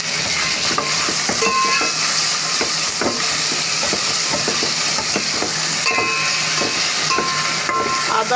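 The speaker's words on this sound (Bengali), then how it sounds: "ভাজা করা হচ্ছে তেলের ভিতরে" Loud, constant frying sizzle of turmeric and ginger in hot oil, with a hissing spatter throughout, broken by occasional scraping stirs and faint clinks.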